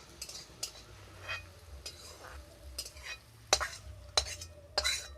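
Fried cashews being stirred into cooked rice in a pan while making fried rice, with spoon scrapes and clinks against the pan recurring at irregular intervals over a low, steady background hum.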